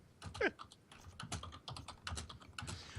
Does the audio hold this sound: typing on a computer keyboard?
yes